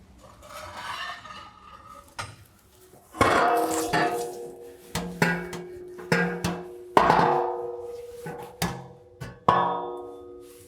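A muffler assembly from a Carven Progressive Series exhaust is lifted off its rear support and pulled out from under a 2022 Toyota Tundra, giving a string of sharp metallic clanks and knocks that start faint and grow louder, spaced irregularly.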